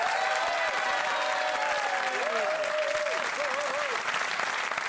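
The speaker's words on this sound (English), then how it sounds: "Can we have a round of applause for our choirs and their celebrity ringmasters?" Studio audience at a Christmas music quiz show applauding the choirs, loud and dense continuous clapping throughout, with sung or whooping voices gliding over the top.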